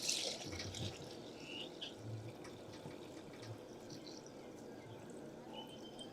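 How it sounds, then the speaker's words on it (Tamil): Ginger juice poured into apple cider vinegar makes a soft, steady liquid trickle with faint splashes, quiet and continuous throughout, with no voices. "இப்போ ஆல்ஸ்டில் சீட் வினிகரில் ரெண்டாவது இஞ்சி சாரை ஊற்றிட்டோம்"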